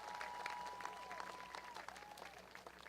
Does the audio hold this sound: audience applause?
yes